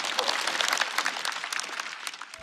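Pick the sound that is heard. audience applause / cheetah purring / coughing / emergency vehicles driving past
audience applause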